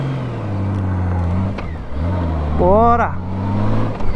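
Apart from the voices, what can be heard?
Honda Gold Wing motorcycle engine on the road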